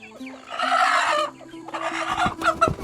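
Chickens clucking and calling inside a coop, several birds overlapping in busy, close, continuous bursts with a few louder squawks near the end; no talk.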